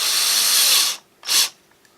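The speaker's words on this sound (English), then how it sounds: "Get them snug, then hand tighten them so I don't over torque them and break the screws." A handheld power drill drives 6 by 3/8 screws into a wooden table saw taper jig in two bursts, a long whirring run followed by a short, sharp spin after a brief pause, heard close and without talk.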